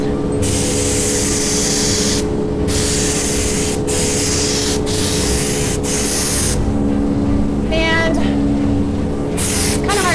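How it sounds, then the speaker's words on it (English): Steady hissing bursts of aerosol spray onto raw white styrene, several long sprays separated by short pauses, close and loud. "So this is just raw white styrene, and I'm going to go ahead and spray this."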